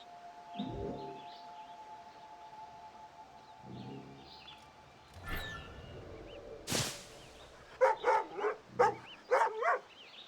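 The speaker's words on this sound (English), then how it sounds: "I did see the dog. Where'd the doggy go?" A dog in Assassin's Creed Rogue barks in a quick series of sharp yelps near the end, after a few scattered fainter sounds and a brief whistle-like burst.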